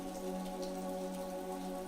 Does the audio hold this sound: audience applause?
no